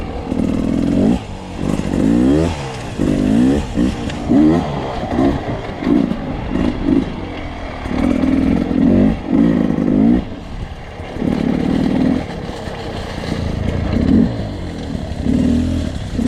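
A 2020 Beta 300RR Race Edition dirt bike engine, heard while riding, revs in repeated loud, close bursts with short gaps between throttle pulls.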